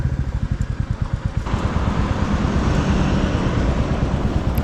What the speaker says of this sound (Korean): 편하게 다니기에는 이렇게 저배기량의 진동 소리가 참 맛있는 바이크가 딱 좋다는 생각이 들었다.